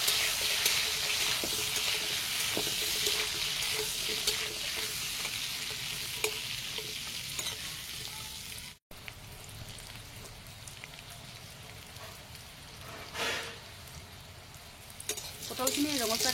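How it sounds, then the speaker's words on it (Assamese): Sliced pointed gourd (potol) frying in hot oil with a little turmeric in a karahi, a steady broadband sizzle with occasional stirring scrapes, briefly cutting out midway before resuming. "এতিয়া পটলখিনি ভাজি ল'ম"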